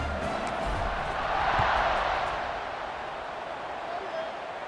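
A stadium crowd roars in the College Football 26 video game during a BYU vs Colorado matchup, a broad steady wash of cheering that swells briefly and then settles, with speech running over it.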